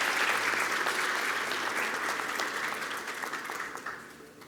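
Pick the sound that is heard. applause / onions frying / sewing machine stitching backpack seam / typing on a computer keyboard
applause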